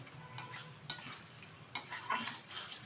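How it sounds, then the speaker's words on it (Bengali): A spoon stirs and scrapes spiced country chicken curry masala in a pan over high heat, with bursts of sizzling and clinks of metal against the pan, close up and unaccompanied by speech. "এখনও আমি 1 মিনিট মতো হাই আছে এটা কষিয়ে নেব।"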